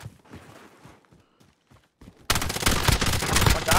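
Gunfire in Call of Duty: Warzone: faint shots and footsteps give way to a sudden loud, sustained barrage of rapid shots that continues to the end.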